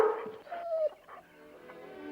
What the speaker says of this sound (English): Get that dog out of here.